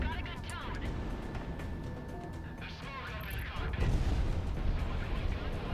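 Frogfoot aircraft strafing ground troops in Project Wingman, heard as rumbling bursts of gunfire and booms mixed into dense combat noise, growing heavier toward the end.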